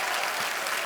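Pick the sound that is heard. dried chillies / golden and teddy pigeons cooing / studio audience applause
studio audience applause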